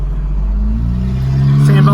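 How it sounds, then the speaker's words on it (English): A car engine hums nearby and rises in pitch as the vehicle accelerates past, with a person talking over the steady motor drone. "Ooh, different car."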